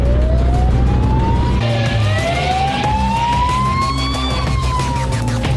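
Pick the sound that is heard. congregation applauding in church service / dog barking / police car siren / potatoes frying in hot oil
police car siren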